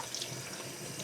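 Tap water runs steadily into a kitchen sink during washing, a continuous hiss-like splash at a moderate, even level with no talking.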